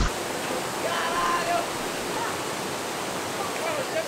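Waterfall at Cachoeira do Mendanha in Rio de Janeiro, a steady broadband rush of falling water heard close by and continuous.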